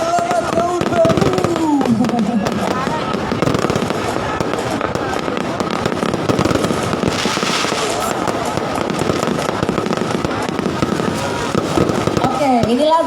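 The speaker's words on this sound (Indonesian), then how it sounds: "sambil menikmati kembang api" New Year fireworks over Cilacap, Central Java, bursting in a dense, continuous barrage of loud cracks and booms, with festive voices and music audible beneath the explosions throughout.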